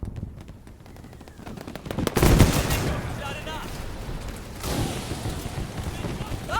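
Gunfire in the World War I video game Over The Top: scattered sharp cracks, then a heavy booming blast and a second burst of shots, with someone talking in German between them.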